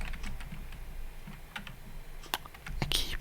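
Rapid, close tapping on a computer keyboard runs continuously, with soft uneven clicks and a few sharper keystrokes in a quiet room, in a soft-spoken setting.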